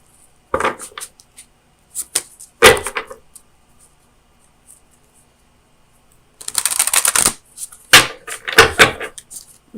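Oracle of Visions oracle cards being shuffled and handled, scattered soft flicks, taps and rustles near the mic, then a longer cluster of card riffles and clacks in the second half, with quiet gaps between.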